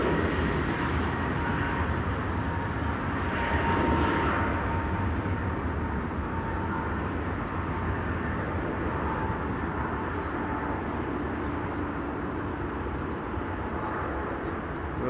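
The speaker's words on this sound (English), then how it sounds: "KLM flight 1955 to Athens, A321neo." KLM Airbus A321neo taking off and climbing out at an airport, a steady distant jet roar with a faint whine, constant across the whole stretch.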